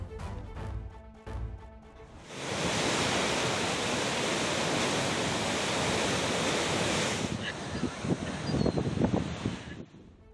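Floodwater rushing through waterways after continuous heavy rain in the Solapur area of Maharashtra, heard as a loud steady roar of churning water, with brief knocks and handling noise before and after.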